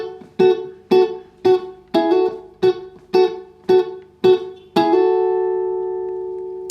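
Muted funk guitar part played with a pick: about eight crisp, evenly spaced choppy strums in a steady rhythm, ending on a final chord left ringing and slowly fading, close and clear with no talking.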